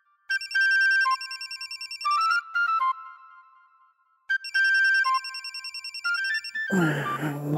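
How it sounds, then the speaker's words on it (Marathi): A mobile phone rings during an unanswered call late at night, a bright synthesized ringtone melody repeating in two clear phrases, loud and close, before a voice starts speaking at the very end. "प्लीज फोन उचल यार"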